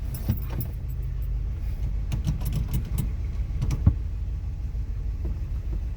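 Inside a 1966 Corvette Roadster, the engine idles with a steady low rumble right after starting, mixed with clicks and jangling keys nearby, and no one speaks.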